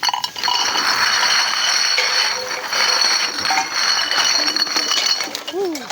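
Glass bottles clink and rattle as scrap is gathered beside a river, a busy, close jumble of clinks under ongoing talk, with a brief sliding tone near the end.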